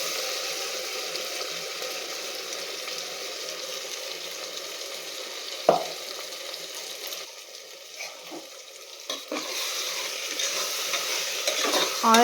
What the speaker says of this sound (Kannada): ಆಯಿಲಲ್ಲಿ ಚೆನ್ನಾಗಿ ಫ್ರೈ ಆಗಬೇಕು ಮಸಾಲೆ